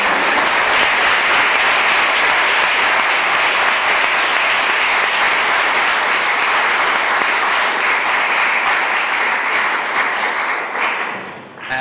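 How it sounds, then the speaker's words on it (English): Loud, sustained audience applause at the Justitia Awards 2024 ceremony honouring women trailblazers, a thick wash of many hands clapping that holds steady for about eleven seconds before tapering off. "Round of applause."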